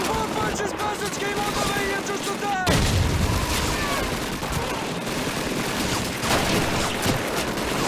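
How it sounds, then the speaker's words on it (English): Machine gun fire in the Call of Duty 2 Winter War Soviet campaign, dense bursts of automatic shots and booms in a busy battle mix, with a brief voice in the background. "I'm shooting MGs, that's why"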